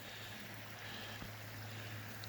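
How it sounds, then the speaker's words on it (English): A creek runs steadily beside US Highway 550, a soft continuous rushing wash that stays faint and even, with no voices. "So the creek almost drowns out the sound of the vehicles."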